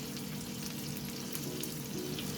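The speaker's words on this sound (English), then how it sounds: "the meat is starting to cook in the butter" Steak frying in butter in a pan with a cream cheese sauce gives a soft, continuous sizzle that stays quiet and even throughout.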